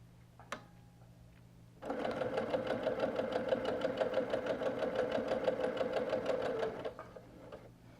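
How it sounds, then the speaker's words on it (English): A sewing machine chain-piecing four-patch quilt coaster fabric runs in a steady, close whirring burst of about five seconds after a brief quiet start, then stops. "And then run it under the machine."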